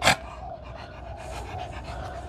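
A dog pants in quick, soft, rhythmic breaths close by, following a brief sharp burst at the very start; no one speaks.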